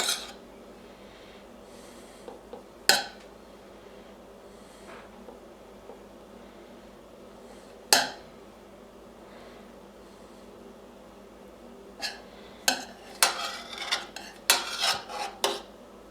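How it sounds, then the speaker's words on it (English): A spoon packs stuffing into green peppers over a casserole pan, giving sparse scraping taps and clinks, a couple of sharp knocks early, then a quicker cluster of metallic scrapes and taps near the end, all fairly close. "fill it right up like I did with the first one, and just tamp it down with the spoon."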